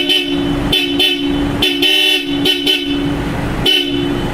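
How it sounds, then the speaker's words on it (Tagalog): Bosch Europa horns fitted to a Nissan Calibre sound in a series of loud, close blasts, short toots and longer held tones, with a steady engine hum between them. "napakalakas ng Bush Europa"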